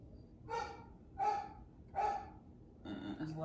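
An agitated dog barks three times in an evenly spaced sequence, then gives a fourth rougher bark overlapped by a brief voice, heard fairly quietly in an indoor room.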